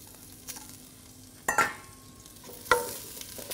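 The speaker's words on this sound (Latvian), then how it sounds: "Uzkarsējam kārtīgi eļu, liekam iekšā sīpols ķiplokus." Onions and garlic going into well-heated olive oil in a pot, soft sizzling and frying with a few sharp stirring clatters and spoon knocks, fairly quiet and close.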